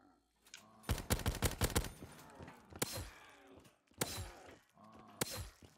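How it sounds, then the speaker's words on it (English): Loud bursts of gunfire in Call of Duty Black Ops Zombies, several clustered shots early, then separated single blasts spaced about a second apart, with game effects between. "I'm gonna shoot on round one"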